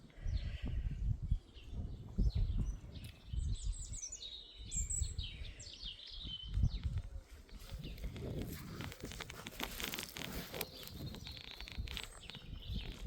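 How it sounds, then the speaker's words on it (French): Birds chirp and sing in bursts of high, bright calls in a garden, over steady outdoor rustling and low background noise, with no one talking. "Entendez-moi ce chant des oiseaux."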